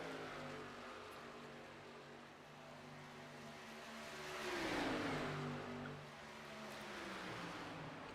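Stock cars race on an oval track, with engines droning from afar and one car sweeping past louder in the middle before fading, all heard faintly.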